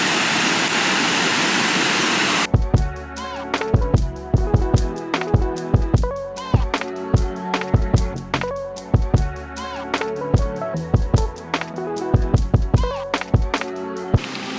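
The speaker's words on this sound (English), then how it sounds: "Not one, but two waterfalls." Twin waterfalls in Vietnam roar as a steady rush of water for a couple of seconds, then rhythmic music with a strong beat takes over.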